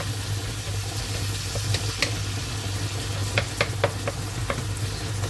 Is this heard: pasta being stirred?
yes